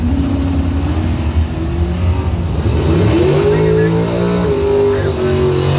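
A Chevrolet race car on a dirt track roars loudly and steadily, its engine note rising as it accelerates, while an announcer talks over the noise.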